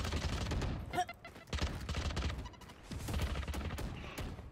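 Rapid gunfire bursts from a Valorant match, loud and repeated in clusters across the moment, with a few sharper single shots between volleys and players' voices talking over the action.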